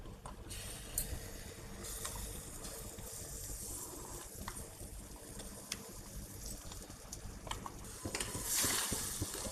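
Date and cashew paste being stirred into roasting water chestnut flour and barnyard millet over low heat for a fasting halwa, soft steady sizzling with faint scraping of the spoon in the pan.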